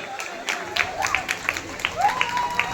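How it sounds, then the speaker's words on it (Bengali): Audience clapping at the prize giving of a group folk dance competition, a scattered patter of claps with a voice speaking over it throughout. "আপনারা একটু জোরে হাততালি দিন"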